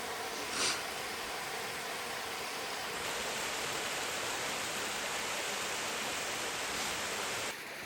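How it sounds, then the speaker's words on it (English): Steady broadband rush of a waterfall beside a hiking trail on the Van Lone Hill Loop, a constant roar that holds evenly throughout with no speech over it. "Here's the other waterfall, guys."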